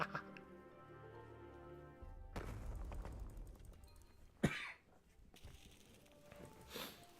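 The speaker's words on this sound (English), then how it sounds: "that cough's still lingering a bit" A lingering cough from a streamer with a cold, a short rough burst near the middle between stretches of quiet room noise and background game music.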